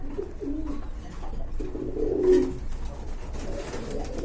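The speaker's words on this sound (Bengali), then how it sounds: "এক জোড়া মিলি, দেখতে পাচ্ছেন মিলি কবুতর" Mili pigeons at a bird market give soft, low, repeated coos close by, in short bursts over a quiet background.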